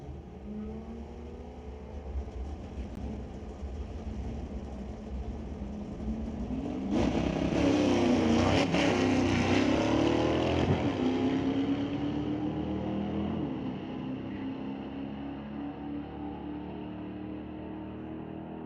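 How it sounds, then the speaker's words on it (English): Gray Performance Ford F-250 and Riff Raff Racing Ford Mustang drag racing in a BC Super Shifters qualifying round, engines rumbling at the line then roaring loudly through a long rising run with gear changes, fading slowly afterward. "Now it'll be Dan Gray and Dale Posdick, the Gray Performance Ford F-250, running against the Riff Raff Racing Mustang"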